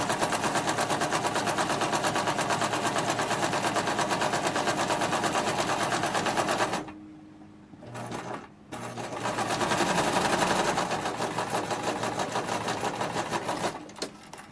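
A sewing machine stitching along the long edge of a reversible tote, running in a loud steady rapid whir, pausing briefly near the middle, then resuming at the same pace, with no talk.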